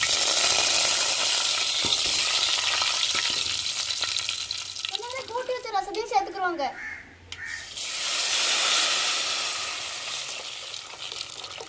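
Mustard seeds, urad dal and curry leaves sizzle and crackle loudly in hot oil, then quiet while a voice speaks briefly in Tamil before the hissing fry picks up again.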